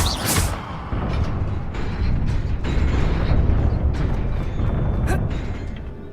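Incendio fire spell in Hogwarts Legacy: a sharp burst at the start, then a continuous rumbling, crackling roar with a few scattered bright hits, fairly loud and without speech.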